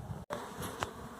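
Bees from a caught swarm buzzing in a steady, close hum that briefly cuts out, with no voices.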